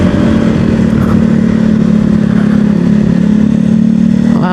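A motorcycle engine drones loudly and close, held under steady throttle as it labors up a steep climb toward Puncak 2 via Jonggol, with a rising rev at the very end.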